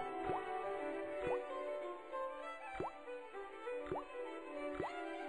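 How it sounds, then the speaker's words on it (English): A rusty faucet in a video game drips at an even, slow pace, five clear plinks over a quiet hum, close and distinct. "I shut off the faucet as tight as I could, but it kept on dripping."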